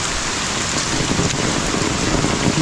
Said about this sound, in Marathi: आज जरा पाऊस जास्त सुटला